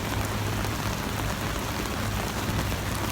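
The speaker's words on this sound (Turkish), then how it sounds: "Çok feci bir yağmur şu anda." Heavy rain falls steadily in a dense, even hiss with a constant low hum underneath, close and unbroken throughout.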